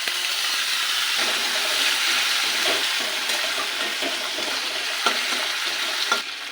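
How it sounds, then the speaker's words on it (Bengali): Chopped tomato sizzles steadily in a hot pan with cumin and grated ginger, a continuous loud frying hiss with a few soft stirring knocks, no voices. "দিয়ে দিচ্ছি টমেটো কুচি।"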